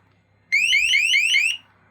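A TECKNET bike alarm blares a loud, close, rapidly warbling electronic siren, a string of rising chirps lasting about a second before it cuts off abruptly.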